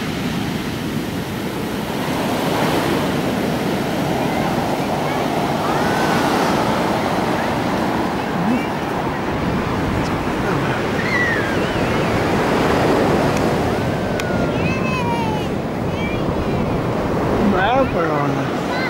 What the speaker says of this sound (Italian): Ora aspetta qua, ora che l'onda becca l'aria.